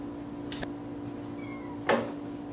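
A cat meows indoors, giving two short, fairly close calls about a second and a half apart over a steady background hum.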